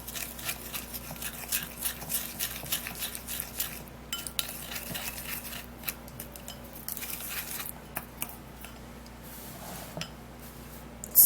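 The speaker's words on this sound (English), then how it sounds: "we're going to be putting in half tablespoon of coconut oil, we'll stir that" A utensil stirs half a tablespoon of coconut oil in a bowl, giving repeated light scraping clinks and taps of metal against dish, fairly close and quiet, with short pauses between strokes.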